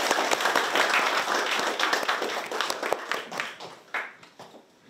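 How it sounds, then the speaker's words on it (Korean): An audience at an academic society lecture applauds with dense, lively clapping that gradually thins and fades toward the end. "박수 맞아 주십시오"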